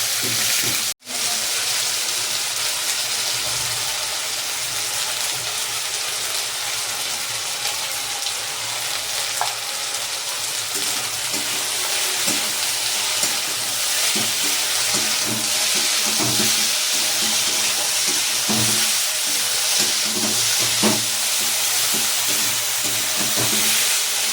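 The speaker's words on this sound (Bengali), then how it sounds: "তাই দেখো আলুটা ভাজছি।" Potatoes frying in a hot pan, a continuous loud sizzle with steady hiss and intermittent soft stirring knocks, close and unbroken for the whole stretch.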